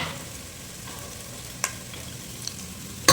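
Mustard seeds and cumin sizzle in hot oil for a fish curry, a faint even hiss with a few small pops and a sharper clatter at the very end, with no voices.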